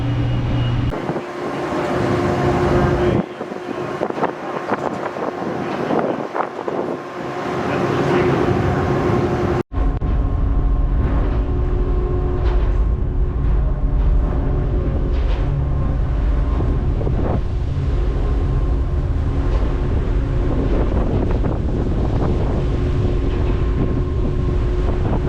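A ferry pulls out of Farewell Harbor bound for Fogo Island: heavy wind buffets the microphone over a low, constant engine drone and rushing water, rougher at first and then a steady, loud roar.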